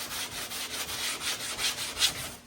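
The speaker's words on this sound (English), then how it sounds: "So you can really see as I start sanding this" 400 grit sandpaper rubs over car body paint in a steady, close, hissing back-and-forth scratch that keeps going without a break.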